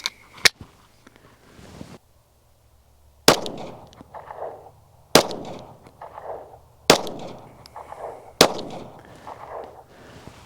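Taurus PT-111 Millennium Pro first-generation 9mm pistol fired outdoors in six sharp, loud reports, a quick pair first and then four spaced shots a second or two apart, each trailing a short echo.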